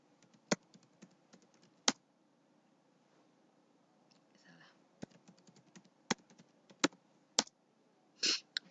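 Typing a password on a computer keyboard at an Ubuntu Linux login screen: a sparse series of sharp, close key clicks in irregular rhythm, fairly quiet, with pauses between keystrokes.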